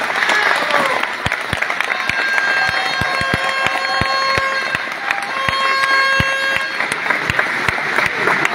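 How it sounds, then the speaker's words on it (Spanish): Audience applause for Manlio Fabio Beltrones, Senate candidate for Sonora, at a campaign rally in Agua Prieta: steady crowd clapping with sharp individual claps throughout, mixed with sustained musical tones and a possible horn. "Un aplauso por favor al licenciado Manlio Fabio Beltrones"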